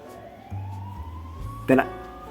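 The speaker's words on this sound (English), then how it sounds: "that police siren scared the shit out of me" A rising siren wail sweeps upward in the background, moderately loud, with a sudden sharp burst near the end.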